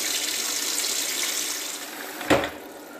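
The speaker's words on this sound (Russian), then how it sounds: "Третий раз заливаем водой." Tap water runs steadily into a bowl of rinse water for washing a carp, a close, continuous hiss with a brief splash near the end.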